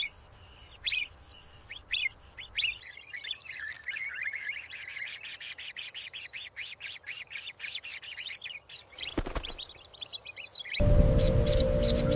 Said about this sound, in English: the chicks of the Rufous hornero grow rapidly, yet remain completely dependent